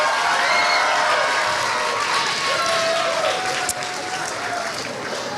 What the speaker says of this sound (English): Please give them a great, great round of applause.